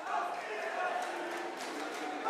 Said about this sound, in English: Yeah, that's a boo.